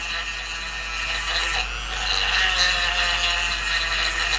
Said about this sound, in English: You're gonna be kind of filing down this.